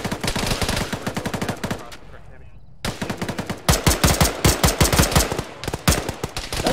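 Rapid bursts of automatic gunfire in a military shooter game, loud and close, in fast repeated volleys with a short pause before the shooting resumes.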